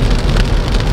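Steady heavy rain pours down in a dense, loud hiss of drops, continuous throughout with no voices, during a road trip near Hua Hin, Thailand.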